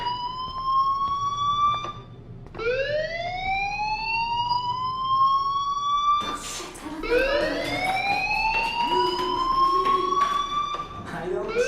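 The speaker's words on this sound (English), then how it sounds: "do you hear that fire alarm? That means you should be outside." A loud electronic fire alarm in a video game (Life is Strange) wails in long rising sweeps, repeating one after another with barely a pause between cycles.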